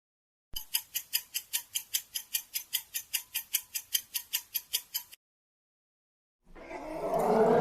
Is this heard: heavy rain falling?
no